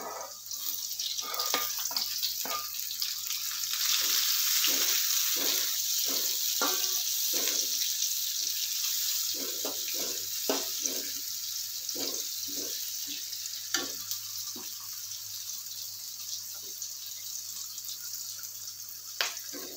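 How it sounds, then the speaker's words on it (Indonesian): Shallots and chilies sizzle as they stir-fry in a pan, a steady close hiss broken by frequent scraping and tapping of the spatula, with no talking over it. "Kita tumis hingga harum dan wangi"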